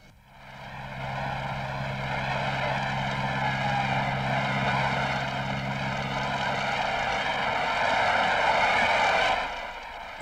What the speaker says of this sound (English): is that an airplane engine?